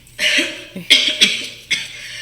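A woman coughs several times in quick, harsh bursts, close and loud, with short pauses between them.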